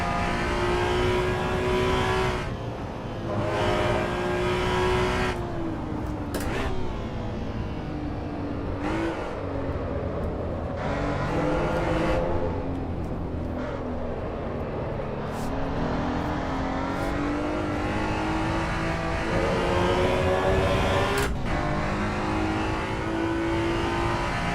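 A race car engine in Assetto Corsa EVO revs hard and climbs through the gears, its loud, sustained roar rising in pitch with brief dips at each upshift and no voices over it.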